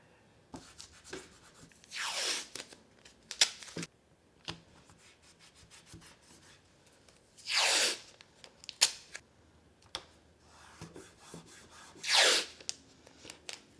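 Holbein soft tape pulled and pressed down onto bamboo watercolor paper, heard as a few loud tearing, rubbing sweeps a few seconds apart with small taps and rustles between, close and quiet otherwise, no talking.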